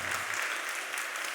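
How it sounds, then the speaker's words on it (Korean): Steady applause from a church congregation greeting a visiting missionary during Sunday worship, a full, even roar of clapping hands that holds without a break, no voices on top. "우리 힘차게 박수하겠습니다"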